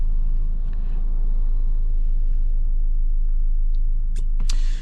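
Car engine drone and heavy road rumble from inside a moving car on a late-night drive to the gym, a loud constant low roar with a couple of brief higher clicks near the end.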